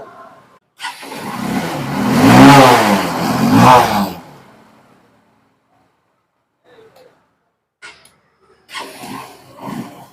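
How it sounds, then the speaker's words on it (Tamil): A Honda Unicorn motorcycle is started with its electric self-starter and its engine surges and revs loudly for about three seconds before dying away. Quieter, scattered sounds follow later. "இப்போ வண்டியை வந்து ஸ்டார்ட் பண்ணி செல்ஃப் ஆகுதான்றது செக் பண்ணிடலாம்"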